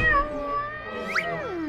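A cartoon cat lets out one drawn-out meow with a short upward squeak near the end, close and clear, alone without speech.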